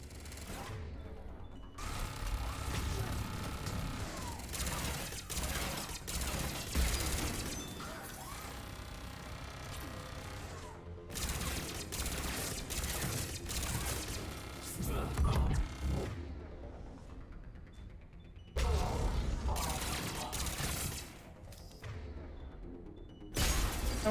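Enemy turrets in Mass Effect 3 fire in repeated loud bursts of rapid gunfire, broken by brief pauses and mechanical whooshes across the stretch, with no talk over it.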